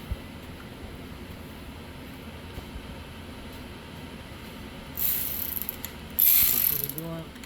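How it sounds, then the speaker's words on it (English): Ratchet wrench working on a Kohler engine's dual-barrel carburetor, with faint mechanical clicking under a low hum, then two louder bursts of ratcheting near the end. "I'm going to get the ratchet."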